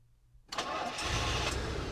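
A car engine cranks and catches after a half-second of near silence, then settles into a steady, fairly loud idle close by.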